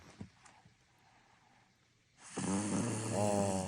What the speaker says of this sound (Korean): 코골이가 심하네요